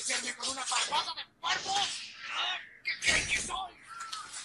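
Harsh crow caws sound in a Naruto Shippuden anime scene, several rough calls mixed with excited talk from viewers speaking over them.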